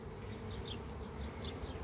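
Buckfast honeybees buzz steadily at a hive in Çorum, Turkey, a dense, continuous low drone with a few individual bees passing close; faint and without speech.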